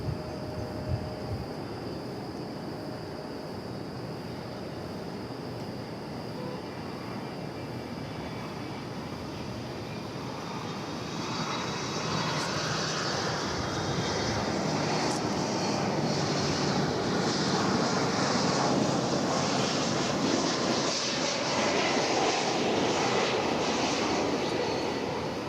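Jet aircraft passing at DFW Airport, a broad steady roar that swells and grows louder over the second half, with a faint high engine whine throughout.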